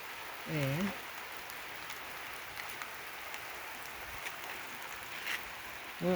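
Light rain falls as a soft, steady hiss, faint and continuous, with a brief voice near the start.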